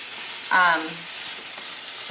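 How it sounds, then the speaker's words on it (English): Green beans sizzle steadily as they are stirred and sauteed in a pan, a close, continuous hiss of frying with a brief louder scraping or squeaking burst near the start. "You want to keep on stirring these green beans to saute them up nicely."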